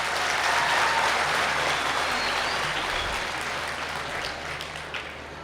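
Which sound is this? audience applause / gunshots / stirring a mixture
audience applause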